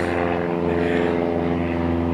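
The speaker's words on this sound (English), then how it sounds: "I'll just wait for this loud ass plane to fly overhead." A loud propeller plane passes overhead outdoors, its steady droning engine hum with clear repeating tones filling the whole moment, no talking over it.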